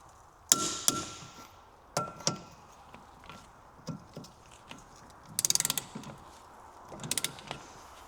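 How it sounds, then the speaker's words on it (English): Torque wrench tightening front wheel bearing bolts on a 2002 Jeep Liberty, with sharp separate mechanical clicks and brief ratcheting bursts, close and fairly loud, no speech. "And then we torque them to 110 Newton meters."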